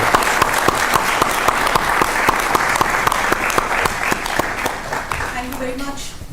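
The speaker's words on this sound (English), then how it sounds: "May I have standing applause from the audience" An audience at a dialogue event on India's G20 presidency gives standing applause, a loud steady roll of many clapping hands with rhythmic sharp hits, thinning toward the end as a voice begins speaking.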